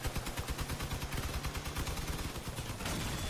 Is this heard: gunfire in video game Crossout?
yes